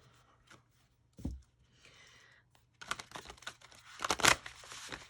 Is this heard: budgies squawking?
no